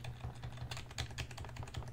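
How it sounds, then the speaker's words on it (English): Arrow keys on a computer keyboard pressed again and again to steer a line across the screen, giving a steady run of close, crisp plastic clicks and clacks with no talking. "when you use the arrow keys, which I have to keep hitting"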